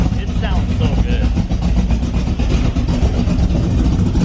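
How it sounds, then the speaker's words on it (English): A car engine rumbles loudly and deeply from its exhaust, steady and close, with a voice talking over it. "this has so much more of a rumble, and this muffler is pretty big"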